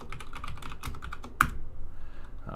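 Rapid keystrokes clatter on a computer keyboard close by, with one sharper key hit in the middle followed by a few softer, sparser taps.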